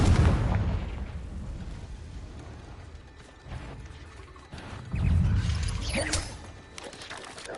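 Confringo blasting-curse explosions in the Hogwarts Legacy video game: a heavy, rumbling blast at the start, then a second booming burst a few seconds later, loud and close with crackling debris.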